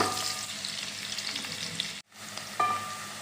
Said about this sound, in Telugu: two medium size onions cut చేసి పెట్టాను పొడవుగా ఇవి వేసుకుని ఫ్రై చేసుకోవాలి